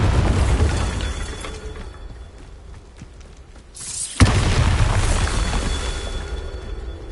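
Bombarda blasting spells bursting in Hogwarts Legacy, a continuous rumbling roar of detonation that fades midway, cuts off abruptly, then erupts again with a sharp crack followed by sustained loud blast noise.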